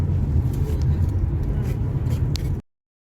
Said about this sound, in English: Some bus coming through.